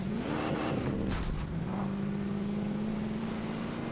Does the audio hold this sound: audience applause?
no